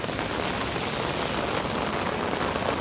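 Steady, dense rain pours onto a New York street, a constant close hiss and patter with no voices and no let-up.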